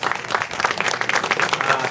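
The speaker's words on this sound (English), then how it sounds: "yes, a round of applause" A round of applause at an annual installation and awards banquet, dense continuous clapping from a crowd, fairly loud and close throughout.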